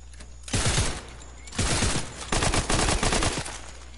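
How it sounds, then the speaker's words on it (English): Video game gunfire in loud bursts, a short volley, a pause, then two longer rapid strings of shots close up, with near silence between them. "This gun sounds a lot more better."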